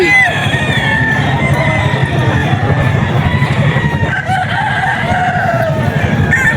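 Hennie roosters crowing repeatedly amid the busy clamor of a crowded poultry market, with other fowl clucking and faint voices in the background.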